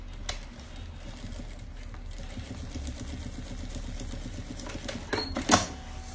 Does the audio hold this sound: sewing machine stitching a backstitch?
yes